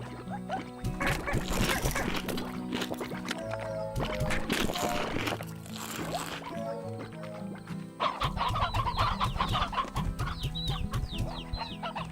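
Chickens in the Slime Rancher video game cluck continuously in a farm setting, a dense layer of repeated clucks and squawks at moderate volume with no talking.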